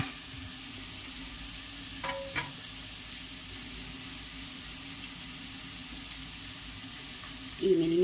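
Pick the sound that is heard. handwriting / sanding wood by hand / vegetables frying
vegetables frying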